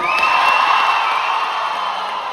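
A live comedy show audience in New Zealand cheers and whoops loudly in a sustained, steady roar of crowd noise with no break.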